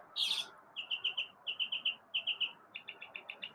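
A small bird chirps in quick rhythmic bursts of bright, high notes, repeated in short clusters against a quiet background.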